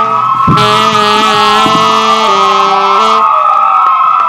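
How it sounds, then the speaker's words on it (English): Ambulance and fire truck sirens wail loudly during a live stand-up comedy show in Austin, their steady pitch rising and falling for a few seconds before fading, with no talk over them. "Do you always have... ambulances and fire trucks as part of your whole thing?"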